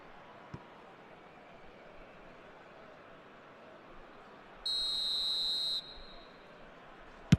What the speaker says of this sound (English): the whistle's gone, presumably for offside